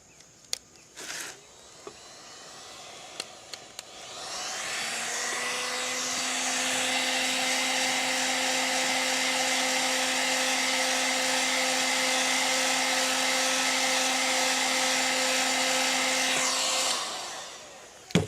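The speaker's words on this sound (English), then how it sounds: "Just going to heat this up and fold it over on itself." Heat gun blowing hot air onto vinyl being softened for folding into a knife sheath: a steady, loud whooshing drone with a high whine, switched on after a few handling clicks and running for about twelve seconds before cutting off.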